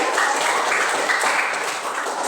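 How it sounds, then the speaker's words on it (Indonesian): Dense applause from a church gathering fills the moment, loud and continuous clapping with no gaps, close to the listener. "kita tepuk tangan"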